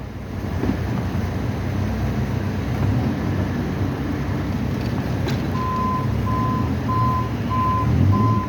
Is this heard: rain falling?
no